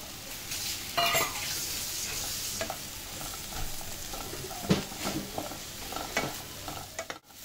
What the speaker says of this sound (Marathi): तेलात चांगली भाजून घ्यायची आधी ही भाजी.